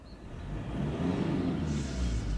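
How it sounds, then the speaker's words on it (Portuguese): A deep diesel engine of a Mitsubishi L200 Triton pickup rumbles and revs up steadily, close and loud, with a faint turbo whistling whine rising near the end. "olha que maravilha, som de carro diesel"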